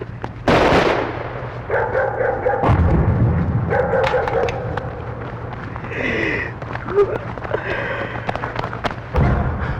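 Gunshots fired outdoors make sharp, loud bangs, one early and another a couple of seconds later. Thuds, shuffling and what may be a dog's barking fill the gaps.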